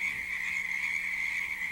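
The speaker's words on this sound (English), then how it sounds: "you hear frogs calling from a pond" Frogs call steadily from a pond in Henning State Forest, Missouri: a dense, continuous chorus of trilling croaks holding an even level throughout, with no talk.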